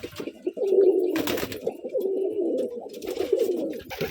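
Giribaj pigeons, a Bangladeshi breed, coo close by in repeated low throaty rolls, several calls in a row with brief pauses between them and a little soft rustling.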